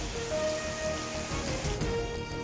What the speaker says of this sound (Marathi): भंडारा जिल्ह्यात मुसळधार पावसाची हजेरी